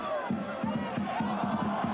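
Rugby crowd at the Pro D2 final between Vannes and Provence roars and chants in rhythmic, pulsing bursts, a dense mass of voices at moderate distance.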